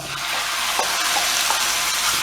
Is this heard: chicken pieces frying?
yes